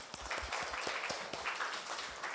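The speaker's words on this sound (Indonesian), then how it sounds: "berikan dulu kepada anak kita Karimah tepuk tangan" A classroom of students claps for a fellow pupil, Karimah, at an Islamic university teaching-practice lesson in Medan; dense, steady applause from many hands fills the short burst without talk.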